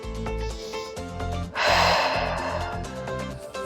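A breathy exhale during a Pilates stretch, a single soft rush of air lasting about a second, over steady background music.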